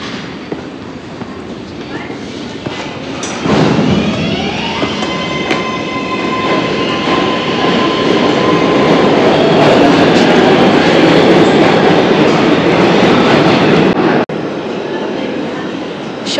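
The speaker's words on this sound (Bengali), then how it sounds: "7 ট্রেন দিয়ে আমি এসছি" A New York 7 subway train at Times Square station rumbles loudly, with a sudden surge of noise and long metallic wheel squeals and tonal whines before the sound drops off abruptly near the end.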